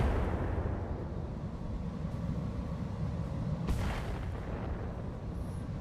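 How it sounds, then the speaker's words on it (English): Allied mechs firing weapons in the RogueTech game, heard as a steady rumbling barrage of booms with a sharper burst near the middle, no voices. "At least my allies are starting to fire again."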